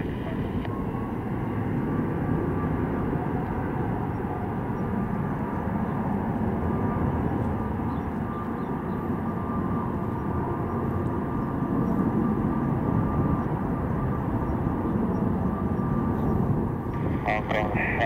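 A Singapore Airlines Boeing 777 takes off at Hong Kong Airport, its jet engines a steady, loud broadband roar that swells slightly and holds throughout, heard from a distance without any pause.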